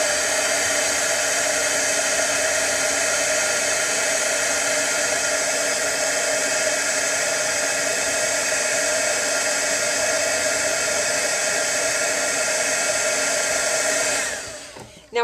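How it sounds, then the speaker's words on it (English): A handheld craft heat tool blows hot air over wet adhesive on a craft board, a steady loud whirring blower hiss that runs unbroken for about fourteen seconds before cutting off abruptly. "I'm going to take my heat tool and I'm going to heat it just a little bit so that my adhesive will stick"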